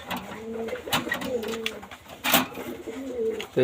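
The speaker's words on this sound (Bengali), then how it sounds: "এই পেয়ার হলো প্রিন্স কামাগার কবুতর আমাদের" Pigeons coo softly in a nesting pen, a Prince Kamagar pair sitting on eggs, with low repeated throaty calls near the listener amid faint background noise.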